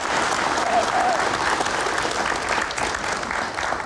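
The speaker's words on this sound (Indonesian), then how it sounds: "kita berikan tepuk tangan dulu" A studio audience at a televised talk show claps loudly and continuously, a thick, steady roar of many hands that holds its level throughout with little variation.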